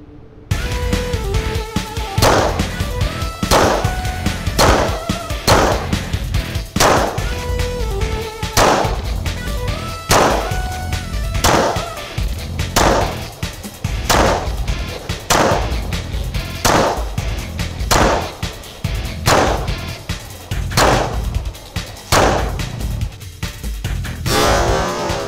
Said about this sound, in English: Let me get out on the range. We're going to shoot it some more for you